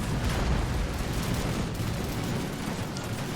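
Dense rifle volleys and cannon fire roar together in a video game battle at the Siege of Pleven, a continuous, loud crackling barrage with no pauses.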